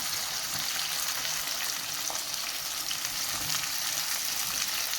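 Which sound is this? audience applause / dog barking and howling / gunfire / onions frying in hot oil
onions frying in hot oil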